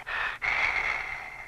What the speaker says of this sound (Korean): 기분 나쁜 숨소리가 들려왔죠.